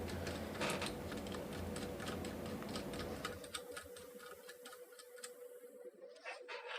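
Rapid typing on a mechanical keyboard with MT3 keycaps produces dense, close clacks over background noise, thinning into sparser keystrokes in quieter surroundings toward the end.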